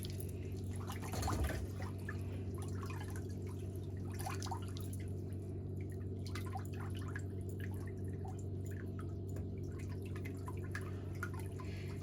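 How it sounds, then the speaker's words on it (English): During a pedicure, a foot lowers back into a water basin, giving a soft splash and sloshing early on, then faint drips and gentle water movement over a steady mechanical hum. The sounds are close and quiet. "you can put that foot back in the water"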